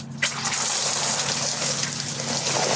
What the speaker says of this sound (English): it's raining. You made it rain.